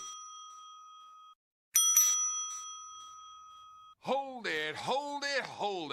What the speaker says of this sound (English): stop ringing that goddamn bell